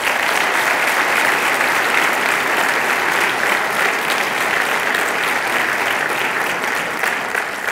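A graduation audience claps enthusiastically in a sustained, dense wave of applause that holds steady for several seconds before easing slightly near the end.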